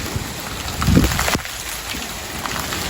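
Sleet and hail driven by strong gusty winds during a winter thunderstorm patter and rush against the microphone, a dense close hiss of pelting ice with a brief louder gust buffet, continuous throughout.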